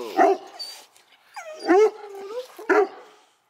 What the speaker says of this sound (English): Why you barking?